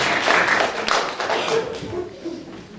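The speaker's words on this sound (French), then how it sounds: "Vous pouvez m'applaudir parce que je l'ai fait sans mots." An audience at a public talk breaks into applause: a dense burst of clapping that holds steady, then thins a little toward the end, fairly close and filling the room.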